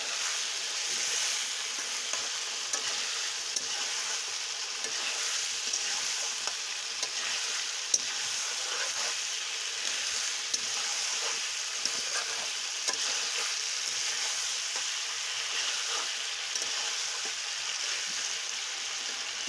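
Ginger-garlic paste frying in hot oil gives a steady, dense sizzle with a bright hiss, close and continuous with no voices.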